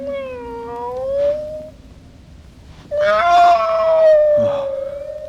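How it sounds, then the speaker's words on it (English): Cat yowling in a vinyl audio drama of Frankenstein, two long drawn-out wails separated by a brief pause, loud and close over a low background hum. "a cat."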